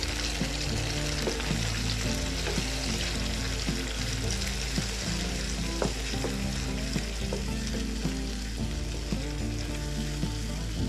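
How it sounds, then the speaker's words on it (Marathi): A frying pan of dum aloo spices sizzles loudly and steadily, with a spoon scraping and stirring in an irregular rhythm through the constant hiss of hot oil, close up and with no voices. "हे आपण बनवून घेतलेले मसाले पूर्ण त्याला व्यवस्थित मिक्स करून घेऊयात"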